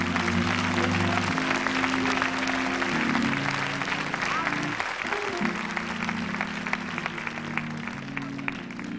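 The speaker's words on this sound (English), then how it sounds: "People of God, would you clap your hands?" An audience at a church service claps steadily and continuously, with music and a voice underneath the applause.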